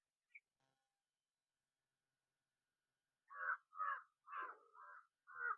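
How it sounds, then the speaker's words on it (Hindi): Crows caw in a quick run of five harsh calls after a long quiet stretch, fairly close and clear with no other sounds. "आज जो चिड़ियों की आवाज हम सुन रहे हैं"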